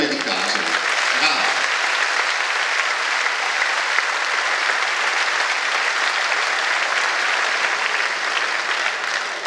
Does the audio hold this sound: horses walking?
no